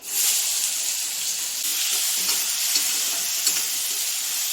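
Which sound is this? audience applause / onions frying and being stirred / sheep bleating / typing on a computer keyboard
onions frying and being stirred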